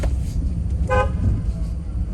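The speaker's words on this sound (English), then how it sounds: "You have to horn at him?" A car horn gives a single short toot on a Galveston, Texas street, loud and close over steady low road rumble and engine noise.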